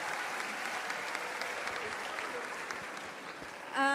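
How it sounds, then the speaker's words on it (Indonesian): Audience applause at an Islamic youth talk, a steady, moderate crowd clapping that holds evenly, then a voice cuts in at the very end. "Semuanya beri tepuk tangan yang meriah buat mbaknya"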